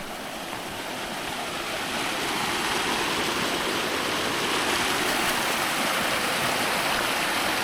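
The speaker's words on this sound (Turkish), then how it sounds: "Buz gibi su akıyor yanımızdan." A loud, steady rush of ice-cold stream water flowing right beside a picnic spot outdoors, a continuous close babble with no pauses.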